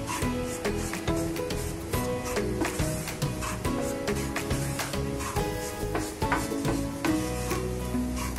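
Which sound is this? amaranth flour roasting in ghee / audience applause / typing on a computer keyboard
amaranth flour roasting in ghee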